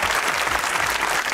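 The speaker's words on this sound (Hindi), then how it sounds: "तालियां बजाइए।" A studio audience at a Pakistani TV comedy show claps loudly and continuously, a dense, even burst of applause with no voices.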